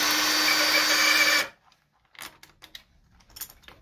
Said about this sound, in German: Kleiner Schlagschrauber, machen wir hier